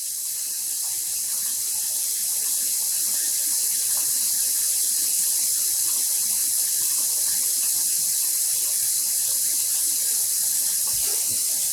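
A tap keeps running into a rinsing bowl of freshly dyed yarn, giving a continuous, loud, even splashing rush for several seconds with no speech.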